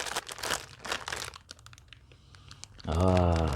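Loud crinkling of the plastic inner wrapping on a pack of homemade Upper Egyptian kahk cookies, irregular crackles mixed with bursts of talk, followed by a brief sustained tone at the end.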